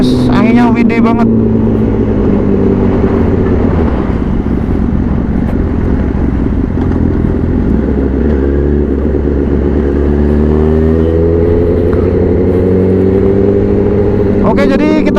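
On a windy Surabaya road, a 2012 Honda CBR 1000RR 20th Anniversary motorcycle is ridden with a loud, close engine drone that dips and climbs again under strong wind buffeting, while the rider talks throughout.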